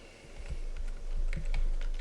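Typing on a computer keyboard while renaming a layer in image-editing software, a quick run of close, crisp key clicks at an uneven rhythm, with no talking.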